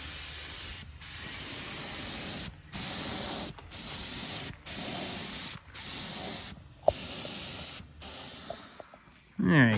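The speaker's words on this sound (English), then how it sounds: "It's our first time messing around with a paint gun." A paint gun sprays paint onto a truck axle in about eight steady hissing bursts, each roughly a second long and separated by short silent gaps, close and fairly loud.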